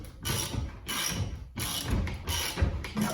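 Fastener being driven down by hand into a log cabin's interior wall framing, a run of close ratcheting, grinding turns in several bursts separated by brief pauses.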